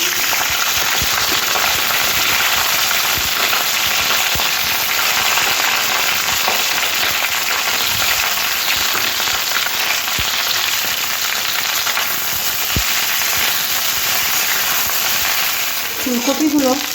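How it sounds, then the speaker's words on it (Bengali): Cauliflower florets frying in hot oil in a wok, a loud, dense, continuous sizzle held close for the whole stretch, with faint voices near the end. "এই তেলের মধ্যে ফুলকপিগুলো দিয়ে লাল লাল করে ভেজে নেব।"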